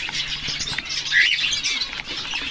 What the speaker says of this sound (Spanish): los canarios son bebés